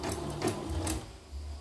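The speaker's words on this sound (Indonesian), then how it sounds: "ini mesin kan jalan nih" A Yoko computerized embroidery machine with a touch screen runs with a steady mechanical whir and rapid clatter of stitching, fairly quiet and close, with no talk over it.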